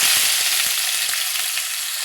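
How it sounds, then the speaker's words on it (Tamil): Onions and curry leaves sauté in a pan with a loud, bright, continuous sizzle and faint stirring taps, heard up close. "இது கூட வெங்காயம், கருவேப்பிலை கொஞ்சம் போட்டு நல்லா வதக்கலாம்."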